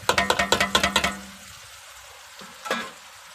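Onions, green chilies and tomatoes frying in a pan for mutton biryani: a quick run of loud rhythmic stirring scrapes over the sizzle, then a quieter hiss with a couple of isolated clanks.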